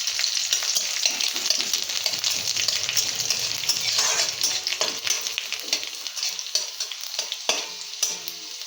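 Chopped garlic and black cumin fry in hot oil for a ridge gourd chutney, a loud, steady sizzle with repeated scraping stirs and no voices.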